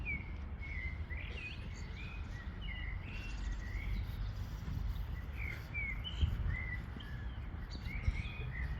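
Small birds chirp and sing in short, bright phrases that repeat every second or so, moderately distant and fairly quiet, over a low background hum with faint insect buzzing.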